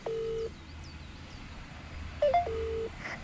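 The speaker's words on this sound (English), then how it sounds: "I'll phone Carl, he'll answer to me." Telephone keypad tones as a call is dialed: a steady tone, a short pause, then a quick chirp of tones followed by another long tone, fairly loud and close, with no talking.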